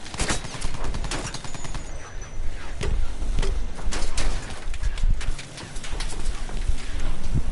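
Rapid bursts of anti-aircraft gunfire in Battlefield 1, aimed at a bomber plane, crack loudly and repeatedly in dense clusters throughout, with other battle noise mixed in.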